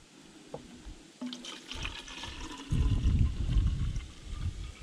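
Water pours into a container for an improvised survival water filter, starting as a thin trickle and building into a louder, steady gurgling stream, close by with no talking.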